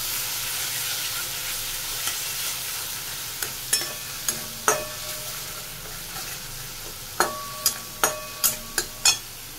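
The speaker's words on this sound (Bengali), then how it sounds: "দেবো টমেটো গ্রেট করে বাটা।" Grated tomato paste goes into a hot frying pan of oil for a bhetki fish curry, giving a steady close sizzle with a run of sharp spoon taps against the pan toward the end.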